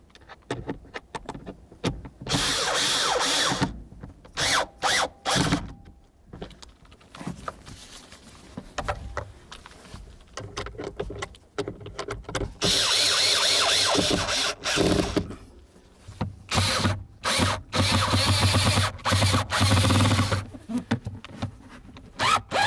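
Bursts of a power tool snugging blower motor screws on a 2010-2013 Ford Transit Connect, whirring in several runs of a few seconds each, broken by short gaps, clicks and handling noise, with no talk.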